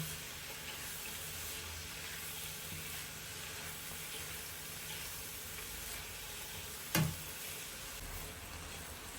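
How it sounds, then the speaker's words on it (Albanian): A chicken mixture with black pepper fries in a pan for a traditional chicken stew, giving a steady, even sizzle throughout, broken once by a brief clatter near the end. "tash masën e përzi kështu dhe e fërgoj për 5-6 minuta"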